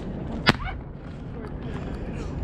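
A single sharp firework bang goes off close by at night in Moapa, a loud crack standing out once above low background rumble, with people's voices faintly around it.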